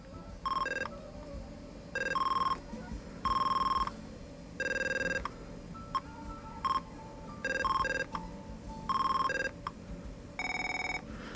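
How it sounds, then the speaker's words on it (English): An AT&T Merlin phone system from the 1980s in programming mode plays its selectable ringtone samples through its speaker: about eight short electronic ring bursts in varied patterns, separated by brief pauses over a steady low hum. "there's a number of different ringtones that you can choose"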